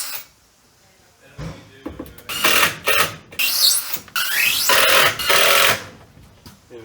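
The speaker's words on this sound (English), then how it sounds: "I need the drill." A power drill whirs in several bursts, driving screws into a DIY cat run build, close and loud with short pauses between runs.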